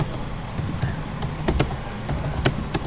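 Computer keyboard typing during practice, irregular close key clicks with a few louder sharp strikes, over a faint background hiss and no speech.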